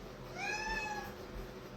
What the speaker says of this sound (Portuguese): esse miado aqui é porque ele tá querendo fugir